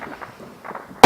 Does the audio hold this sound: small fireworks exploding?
yes